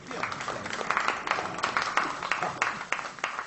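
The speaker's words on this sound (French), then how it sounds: "Des applaudissements saluent la déclaration du délégué colombien" Applause at the 1938 Évian conference greets the Colombian delegate's statement, a steady spread of hand claps from a crowd, moderately loud on an old recording with some murmuring under it.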